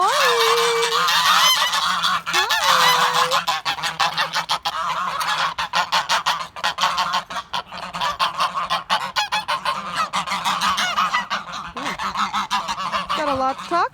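A goose honks repeatedly in loud, close bursts, sometimes in quick runs of calls, with a few quieter gaps between them.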